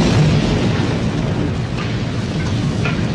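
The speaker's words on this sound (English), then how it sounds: "And I'm like, an explosion like this?" A movie explosion from the horror film Halloween 4 fills the frame with a loud, sustained rumbling roar that holds steady for a few seconds before cutting off abruptly.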